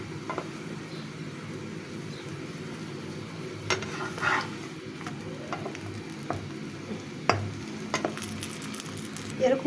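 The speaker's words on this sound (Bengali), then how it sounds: "এরকম করে আমি পরোটাটা হালকা লাল লাল করে ভেজে নিচ্ছি।" Paratha frying in a little oil on a pan, a steady soft sizzle with scattered clicks and scrapes of a spatula turning it, close and continuous with no talk.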